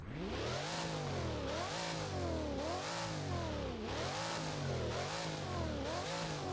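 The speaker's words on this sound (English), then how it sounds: "Here's the revving out." A Hennessy Venom F5 engine in the Driving Empire racing game revs repeatedly, each loud rising-and-falling sweep following the last in a steady rhythm with no talk over it.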